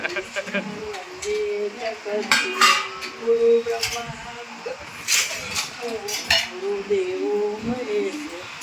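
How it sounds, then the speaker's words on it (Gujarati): Dishes, pots and cutlery being washed, with metal clinks, clatters and scrapes coming in irregular bursts under ongoing conversation. "અહીંયા વાસણ કસાય છે આ લોકો."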